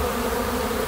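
Italian honey bees buzzing densely at their hives in summer, a close, continuous steady drone with no pauses.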